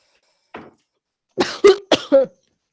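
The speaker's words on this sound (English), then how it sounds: "Or actually you coughed, never mind." Several sharp coughs: one short cough, a pause, then a quick burst of three or four harsh coughs close to the listener, with no talking.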